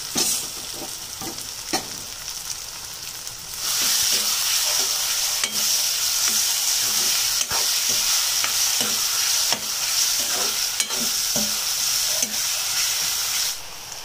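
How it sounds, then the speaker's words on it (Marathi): Onion and tomato fry with a little salt in a pan for a mud crab dish, a bright sizzling hiss that swells louder partway through while a spatula taps and scrapes in a steady rhythm nearby. "थोडंसं मीठ टाकूया कांद्यामध्ये म्हणजे कांदा लवकर शिजतो टोमॅटो टाकूया"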